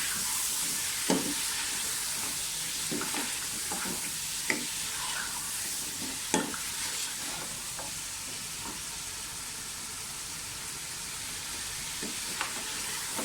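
Mutton sizzling in a pan while being sautéed and stirred for korma, a steady hissing fry with occasional louder stirring scrapes and pops.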